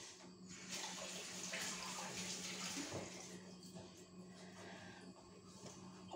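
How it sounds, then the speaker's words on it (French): A kitchen tap runs as hands are quickly rinsed beneath it, a soft, steady splashing rush of water heard close but at low volume. "je vais me rincer les mains en vitesse"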